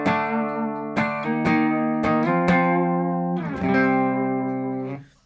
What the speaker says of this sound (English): I'm playing into the Morgan RCA35, which is a very clean amp. And clean tone sounds like this.